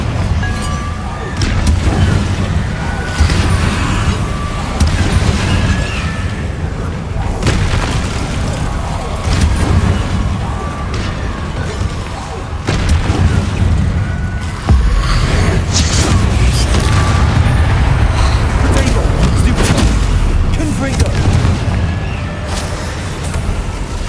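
Confringo blasting spell explosions in Hogwarts Legacy on PS5: repeated heavy booms and fiery bursts over a rumbling battle, loud and close, with a voice speaking at times between the blasts.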